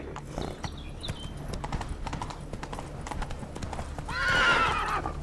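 A horse in the video game Witcher 3 gallops with steady rhythmic hoofbeats, then gives a loud neigh near the end.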